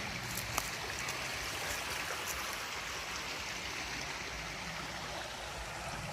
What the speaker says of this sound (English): Man, I love the sound of water.